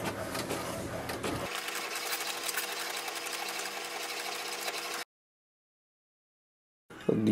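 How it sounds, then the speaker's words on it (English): An HP DeskJet 2722 inkjet printer runs a page through with a steady mechanical whirr and buzz for about five seconds. Silence follows, then a brief louder mechanical burst at the end. "it will send a command for the printer to print"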